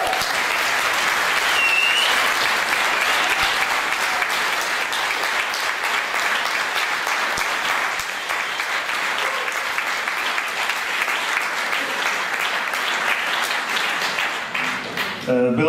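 A theatre audience at a stand-up comedy show applauds loudly and steadily, a dense, sustained wash of clapping that carries on at full strength before thinning slightly near the end.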